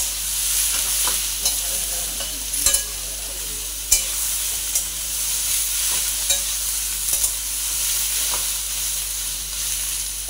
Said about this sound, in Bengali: এই সয়াবিনগুলো দিয়েছি, দিয়ে একটু ওই ভাজা করে নিই